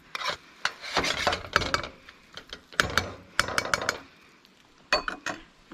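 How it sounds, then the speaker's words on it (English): A utensil stirs and mixes caramelizing pan de coco coconut filling in a pan, giving repeated scraping and rubbing strokes in irregular bursts, close and fairly clear with no talk. "Okay, thoroughly mix."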